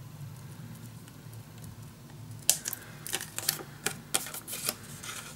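Scissors cutting a handmade paper template, a series of sharp close snips and rustles in quick irregular succession after a quiet start, with no talking.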